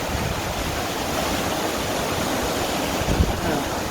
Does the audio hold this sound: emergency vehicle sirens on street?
no